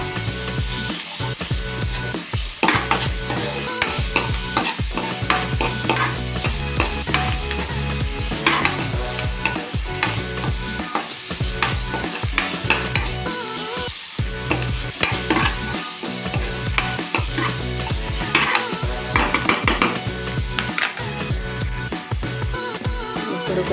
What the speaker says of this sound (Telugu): కొంచెం అల్లం వెల్లుల్లి పేస్ట్ వేసుకోవాలన్నమాట. ఇది బాగా వేగాలి.